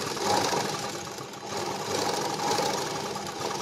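A sewing machine runs steadily while stitching a double seam on a blouse, a continuous close mechanical whir with slight rises and dips and no talking.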